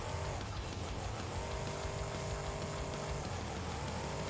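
The Gravedigger monster truck in the BeamNG.drive video game roars on a racing lane, a loud, continuous engine drone that rises and falls in pitch, with no talking over it.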